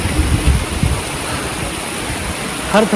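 A waterfall on the Kedarnath yatra mountain trail gives a steady, broad rush of falling water. A few soft knocks come near the start and end.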